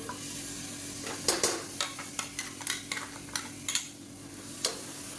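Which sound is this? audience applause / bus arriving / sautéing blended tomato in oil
sautéing blended tomato in oil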